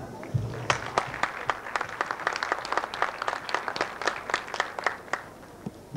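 A television studio audience claps steadily, with distinct sharp individual claps that are fairly close and moderate in volume, and no one speaking over them.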